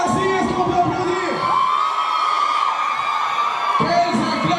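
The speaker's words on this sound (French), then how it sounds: "Quelles acclamations!" A French-speaking audience at a cinema club screening cheers and whoops loudly and continuously, with shouts and children's voices in a dense crowd roar that briefly dips near the end.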